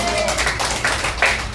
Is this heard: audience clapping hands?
yes